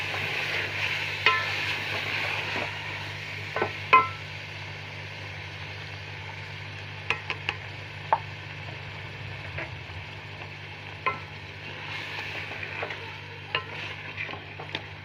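Chicken palak sautéing in a pan after milk is added, a soft steady sizzle with a low hum beneath and scattered sharp clicks of a stirring spoon, close and alone.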